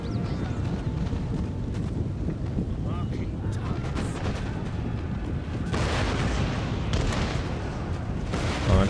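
Musket and cannon volleys thunder across an Empire: Total War battlefield as British forces engage, a dense continuous rumble of massed firing with louder crackling bursts late on, while a voice speaks over the din.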